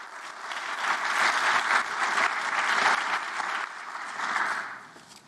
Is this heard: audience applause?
yes